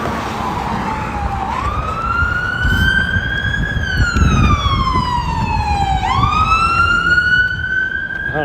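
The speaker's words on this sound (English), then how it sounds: "bunch of fire trucks going somewhere, and an ambulance." Fire truck and ambulance sirens pass on a city street, wailing tones rising and falling over traffic noise and growing louder toward the end.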